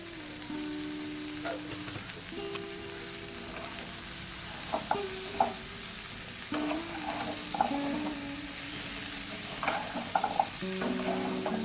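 Pumpkin stem curry with salt and turmeric stirred in a pan, with a soft ongoing sizzle and repeated scraping and clinking spoon strokes close by.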